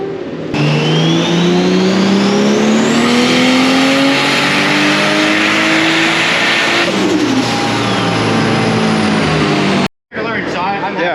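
A fully built turbocharged Toyota Supra with a budget turbo kit revs hard on a dyno, its engine note climbing steadily in pitch through a long loud pull before cutting off abruptly near the end.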